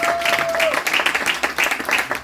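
A church congregation claps steadily in quick, even rhythm, close and fairly loud, with a voice briefly heard at the start.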